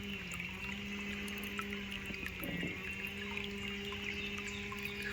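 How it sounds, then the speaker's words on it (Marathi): Steady running water pours from a tap into a tank, a continuous low wash with a faint hum and occasional splashes. "नळाला पाणी आलं आहे नळाचंच पाणी सोडतो"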